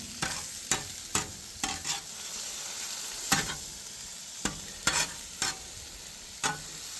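Venison and its juices cooking on a Blackstone griddle, with a steady low sizzle broken by sharp, irregular spatula scrapes and taps close by. No one speaks.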